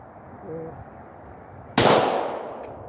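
A single sharp shot from a Glock 22 pistol firing .40 caliber rounds one-handed at an outdoor range, loud and close, preceded by quiet ambience and a brief tone.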